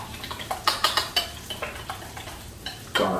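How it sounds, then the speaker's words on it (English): A spoon stirring turmeric through a yogurt mixture in a pan, making a quick series of close scraping clinks and taps against the metal with a faint sizzle beneath, and a louder scrape near the end. "then just going to give it a stir"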